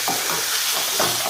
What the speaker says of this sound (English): Here we have our chicken cooking away.